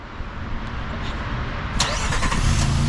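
A 2023 Nissan Frontier PRO-4X engine starts by remote start, a crank and catch followed by a steady idle rumble heard close by outdoors.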